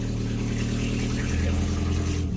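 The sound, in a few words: 82 720 engine started and running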